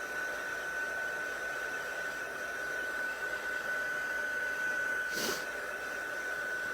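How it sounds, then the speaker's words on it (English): A heat tool blows steadily close by while melting embossing powder until it turns shiny, a constant airy hiss with a thin tonal whine throughout and one brief louder puff of air partway through. "just keep moving your heat tool around until you see kind of it start to melt and become really shiny."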